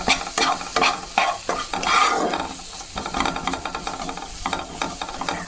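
Spices and egg curry for an egg paneer dish fried in a pan, with repeated stirring strokes scraping through the mix over a steady close sizzle, no voices.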